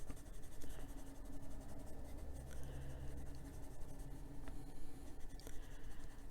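A Polychromos white colored pencil blends over paper in close, continuous scratchy strokes that rise and fall in quick rhythm, quiet and alone without voices.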